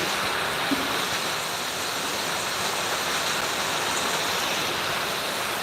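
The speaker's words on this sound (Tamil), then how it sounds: "பாருங்கள் எவ்வளோ மழை பெய்யுது" Heavy rain pours down without wind during the Margazhi season in Srivilliputhur, a dense, constant hiss that stays steady and loud throughout with no breaks.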